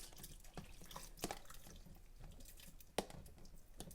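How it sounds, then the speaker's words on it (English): Sauerkraut juice being poured onto beets, a faint wet trickle with soft splashes and a few sharper drips and plops scattered across a few seconds, with no talking. "you take the sauerkraut and you just pour a little bit of the juice in with the beets"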